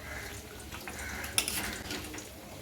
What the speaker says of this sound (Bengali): আস্তে তলার থেকে নাড়াবে।